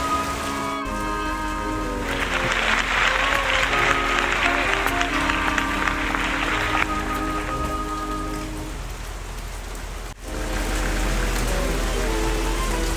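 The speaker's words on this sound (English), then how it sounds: "It's raining." Steady outdoor rain falls continuously as a dense, close patter with a faint tonal hum beneath, briefly dipping near the end before resuming.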